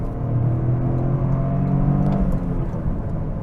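A Toyota GR Corolla drops from sixth to third on an open road and pulls hard, giving a loud, continuous engine drone with rising harmonic tones over the rumble of road and cabin noise.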